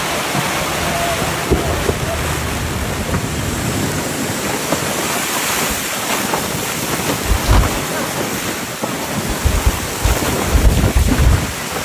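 Strong storm wind gusts roar and buffet during a severe storm in Western Europe, a loud broadband rush with heavy low rumbles that surge and swell toward the end.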